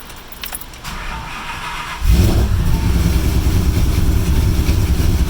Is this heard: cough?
no